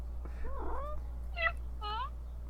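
A cat meows three times in quick succession, soft and close, each cry a short, wavering call against a faint steady hum.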